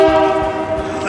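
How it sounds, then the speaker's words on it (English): A passing train near Banff sounds its horn, a loud sustained blast heard close by with a rumbling undertone from the rail cars. "we've just got a train, so you probably missed that bit"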